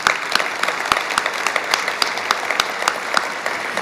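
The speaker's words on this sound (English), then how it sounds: "Please join me in a round of applause for all of our partners" Applause fills the room at a credit union's annual meeting, a smaller crowd clapping steadily with distinct individual claps audible, no speech on top.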